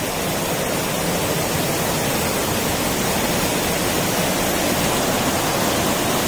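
Water tumbling down rocks at a waterfall in Kottiyoor, a dense, steady roar of rushing water that stays loud and even throughout, with no voices on top.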